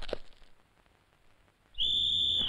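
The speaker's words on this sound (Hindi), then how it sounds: "मेरे बाप ने सीटी बजा दी है" A whistle is blown near the end, one loud, sustained shrill blast that starts suddenly after a quiet stretch opened by a brief thump.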